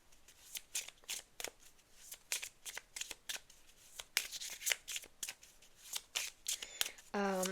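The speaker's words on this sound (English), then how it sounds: "I'm going to give that a better shuffle" Tarot cards are shuffled up close in quick, crisp riffling bursts that repeat at an uneven rhythm for several seconds, fairly quiet overall, with a brief tonal sound at the very end.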